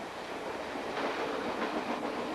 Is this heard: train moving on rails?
yes